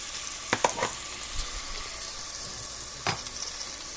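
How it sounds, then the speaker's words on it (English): Breadcrumbs frying in a pan with clams and tomatoes give a steady, soft sizzle, broken by a few sharp clicks of a utensil against the pan. "One of the things I like to do is just add a little breadcrumbs just to fry it."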